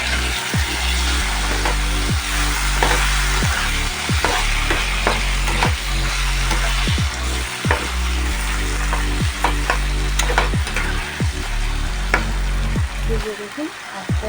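Lotia fish being stirred in a frying pan, with a steady sizzle under repeated scraping strokes of a utensil at an uneven rhythm, close and fairly loud throughout.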